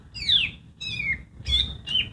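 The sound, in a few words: green leafbird singing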